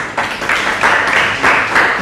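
Audience applause at a book dedication ceremony, a short burst of mixed clapping that swells in waves, close and fairly loud.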